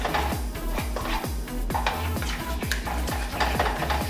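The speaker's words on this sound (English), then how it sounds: "We're gonna mix the daikon slaw well into the curried up yogurt." Daikon slaw stirred into curried yogurt in a bowl, giving a steady wet squelching churn with a regular rhythm of soft scraping strokes about three to four per second, close and continuous.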